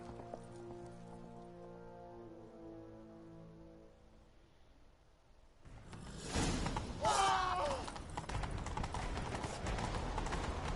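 A horse in The Witcher 3 breaks into a gallop, rapid rhythmic hoofbeats thundering in close and loud after a quieter stretch of musical tones, with game effects layered over the running.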